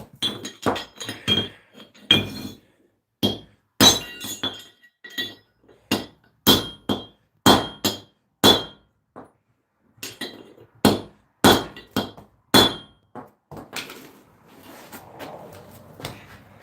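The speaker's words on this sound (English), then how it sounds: "Just got a little anvil there." Sharp metallic strikes of a hammer shaping a horseshoe on a small anvil, ringing out in irregular bursts of single blows and quick pairs, close and loud with short pauses between.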